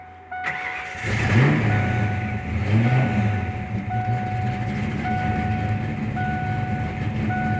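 A 1993 Mustang Cobra replica muscle car cranks over and catches, then settles into a loud, steady idle with a low rumbling exhaust close by, a thin whine running on top.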